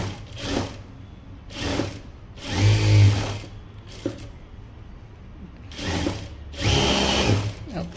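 A sewing machine stitches the lining of a blouse sleeve in several short bursts of rapid whirring, each a second or so long, with quiet pauses between them, close by.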